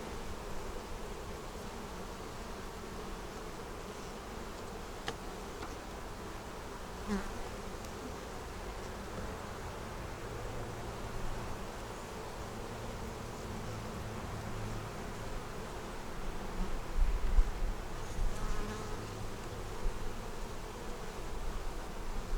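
A dense, steady hum of honey bees buzzing in a 10-frame split hive, continuous and close, with faint rustling and slight swells in loudness.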